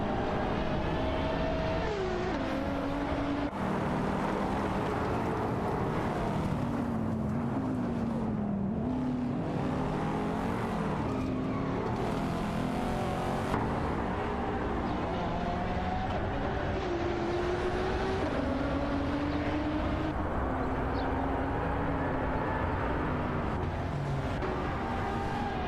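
Race cars in a video game, including a McLaren MP4-12C, drone and whine continuously with engine notes climbing and dropping through gear changes, several cars layered close together in a nonstop race.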